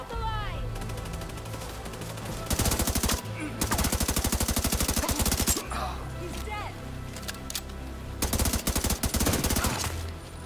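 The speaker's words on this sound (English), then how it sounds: "Taking heavy fire." Sustained automatic gunfire from The Division 2, bursts of rapid shots repeating in long runs across the whole stretch, loud and close, with shouted voices mixed in between the volleys.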